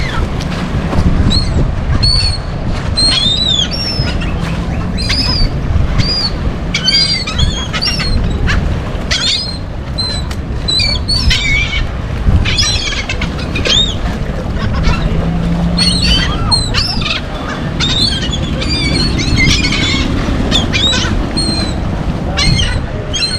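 Seagulls cry and squawk constantly while being fed bread at a Mexican shoreline, many birds calling close by over steady wind and water noise.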